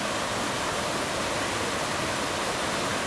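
Water overflowing from old watercress beds beside the River Bulbourne, a steady, close, broadband rushing and splashing with no pauses.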